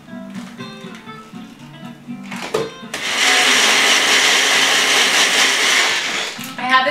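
A Magic Bullet blender whirs loudly, blending a smoothie with ice for a steady few seconds, after a stretch of someone talking, with the motor cutting off as her voice returns.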